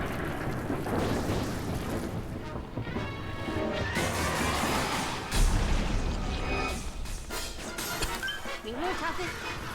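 Rain and rolling thunder from Pikmin 3 fill the track, a steady rain hiss under game music and effects, with a heavy crash or thunder boom about halfway through and a voice talking over the game.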